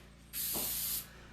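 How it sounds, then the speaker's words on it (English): Spray adhesive hisses from an aerosol can onto the back of a stencil in one steady, close burst lasting under a second, then cuts off. "I'm going to spray the back of it lightly with a little bit of spray adhesive"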